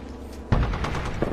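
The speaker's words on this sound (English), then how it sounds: "that's a lot of gunfire" Rapid bursts of automatic gunfire in a video game crackle in a fast, dense rhythm after a quieter start, loud and close.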